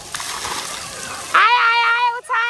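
Water gushes and splashes from a fountain at a children's water play area in an Australian zoo, starting suddenly partway through over a background murmur and continuing loud and close, with a voice nearby.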